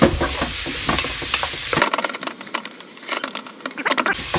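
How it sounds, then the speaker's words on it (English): A spoon stirs a pot of Italian beef stew with vegetables and broth, giving close scraping and sloshing strokes over a soft simmering sizzle. "So we keep stirring the beef stew like this"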